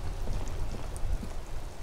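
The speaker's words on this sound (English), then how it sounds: "It's raining again." Rain falls steadily in Disco Elysium, a soft continuous patter with scattered faint droplet ticks and no voices.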